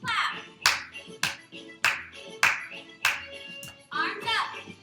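Clapping in a chair Zumba Gold exercise class: about seven loud, crisp hand claps in a steady rhythm, each one ringing briefly over background music.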